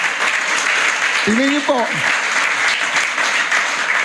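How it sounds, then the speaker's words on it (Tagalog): A church congregation at a Sunday morning service claps in dense, steady applause that lasts the whole stretch, with a brief spoken phrase over it partway through. "Palakpakan nga natin si Lord. The best, palakpak kay Lord."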